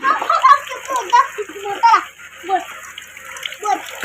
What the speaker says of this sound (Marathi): आमचा दादू कसा पाण्यात खेळतोय